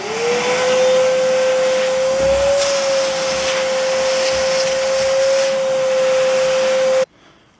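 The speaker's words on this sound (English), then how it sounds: "Now I will clean the holes out using a shop vac." A shop vac cleans drilled holes in a concrete floor with a loud, steady, close whine and roar and a constant high tone, then cuts off abruptly near the end.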